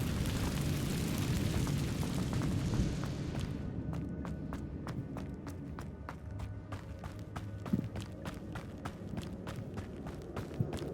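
The Incendio fire spell is cast in Hogwarts Legacy, giving a dense rushing burst of flame for about three seconds that then breaks into a run of sharp crackling pops and thuds.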